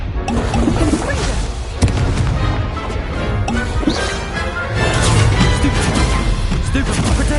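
A Confringo blasting curse in the Hogwarts Legacy video game: loud, dense crashes and booms from spell combat, with overlapping impacts continuing throughout and a voice shouting over the din.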